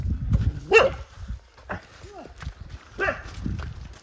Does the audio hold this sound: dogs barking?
yes